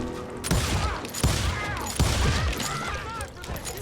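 Gunfire in the Western video game Call of Juarez Gunslinger comes as three or four sharp, loud shots spaced about a second apart, each followed by ringing echo and game ambience.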